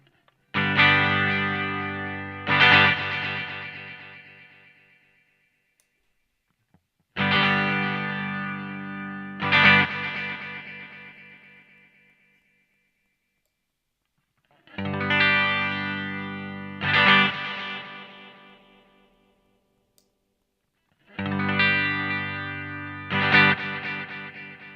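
Guitar phrases pass through a Strymon Volante echo pedal while its mechanics knob is turned down and then up. Four repeated chord phrases, each with a second hit, trail off in echoes, alone and without talk.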